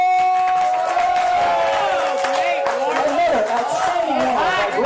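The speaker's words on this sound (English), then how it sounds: "let's get them back out here with a big old round of applause!" At an improv comedy show, an audience cheers, whoops and yells loudly with some clapping mixed in, a dense crowd roar filling the whole stretch.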